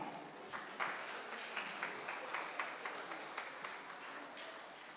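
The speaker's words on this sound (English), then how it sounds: "clap for God" A church congregation claps faintly and at a distance, producing a soft, rhythmic patter of hands that pulses steadily throughout.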